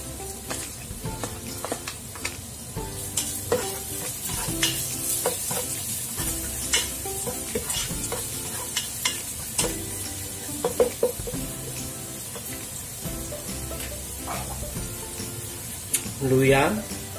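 Chopped onions sizzle as they sauté in a pan and are stirred, with continuous frying crackle and scraping from the utensil throughout, plus a few louder clatters near the end.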